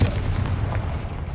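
An explosive Confringo spell cast in the video game Hogwarts Legacy lands as a loud, low booming blast with a rumbling tail that holds steady for over a second.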